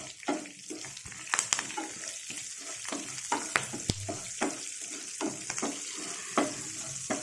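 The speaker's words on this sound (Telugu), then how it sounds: "కరివేపాకు వేసుకుందామండి" Curry leaves hitting hot oil for tempering radish curd chutney, a busy crackling sizzle with sharp pops and stirring scrapes, close and without talk.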